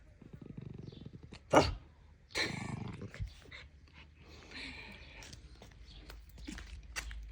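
A dog growls in low, rumbling bursts at close range, with a few sharper thumps and rustles mixed in and a quieter stretch of mid-level noise afterward.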